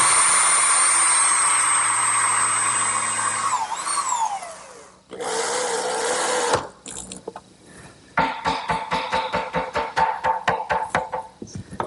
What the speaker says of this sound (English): Now this strip of maple will act as a draw support and guide, and I'll just attach that with some screws.